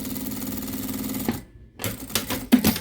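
A sewing machine hums in a steady rapid stitch as it sews a zipper onto a quilted pouch without a zipper foot. The motor stops for a short silence, then runs again in brief bursts.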